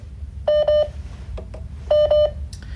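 Telephone keypad dialing tones while placing a call back, two pairs of loud, clear beeps separated by softer short tones over a low background hum.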